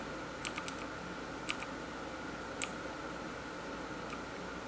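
A budget mechanical gaming keyboard with backlighting gives a handful of crisp, isolated key clicks, sharp and close, spaced irregularly over a quiet room hum.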